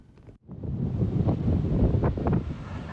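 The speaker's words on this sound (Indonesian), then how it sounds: "Terpaan angin kencang dan gelombang tinggi di Pantai Congot" Strong gusting wind buffets the microphone at Congot Beach in Temon, Kulon Progo, with heavy surf rumbling underneath in a steady, loud roar.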